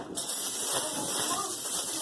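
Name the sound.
cooking spray into a crock pot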